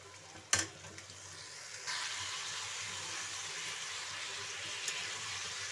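Potatoes added to a pan of cauliflower, peas and tomato for a home-style sabji, a sharp clatter then a steady, fairly soft frying sizzle that persists evenly to the end.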